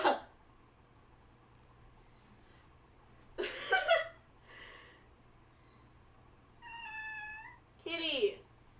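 A pet cat named Zelda gives a few separate meows, one long and clearly pitched near the end, with a soft voice talking between the calls over a quiet steady hum in an indoor room.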